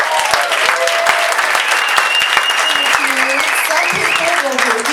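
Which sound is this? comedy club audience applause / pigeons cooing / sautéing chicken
comedy club audience applause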